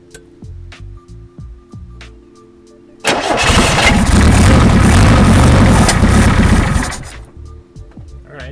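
An NSU engine starting after its carburetor was cleaned, a few cranking clicks and then a loud, close running roar that holds for about four seconds before cutting out, with voices heard around it.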